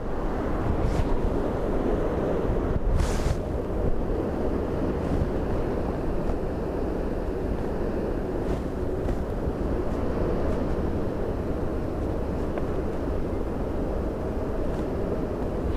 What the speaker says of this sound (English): So the wind here currently outside takeoff limits as well.